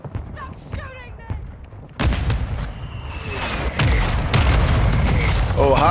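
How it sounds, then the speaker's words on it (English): Mortar strike explosions in Call of Duty: Modern Warfare II: heavy booms and rumbling blasts, loud and repeated, swelling after the first couple of seconds amid gunfire, with a voice talking over the action. "Hostile mortar strike incoming."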